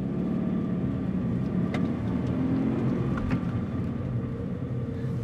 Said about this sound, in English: Just right now from me just revving, the car is a little bit louder